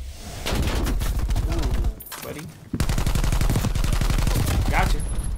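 Rapid bursts of AK-47U submachine gun fire in a Call of Duty Black Ops Cold War match, loud and close, with a brief pause midway before the automatic fire resumes, and a voice faintly underneath.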